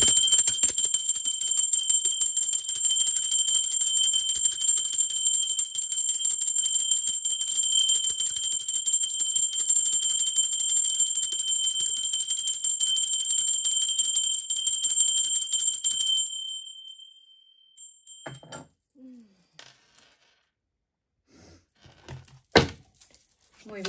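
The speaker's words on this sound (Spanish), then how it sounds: "Va campana" A steady, bright ringing bell sustains loudly for about sixteen seconds before cutting off, followed by near silence with a few faint scattered sounds.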